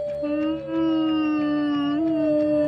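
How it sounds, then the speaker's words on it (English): Several hound and dog type creatures howl together in long, sustained, wavering tones that rise and hold, loud and close, with no other sound beneath them. "all of the hound and dog type Digimon start howling"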